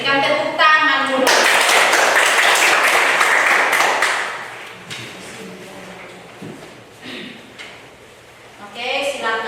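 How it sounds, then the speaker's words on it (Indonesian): A classroom group claps in a dense burst of applause lasting a few seconds, then it fades into scattered taps, with a teacher's voice before and after. "Berikan tepuk tangan dulu."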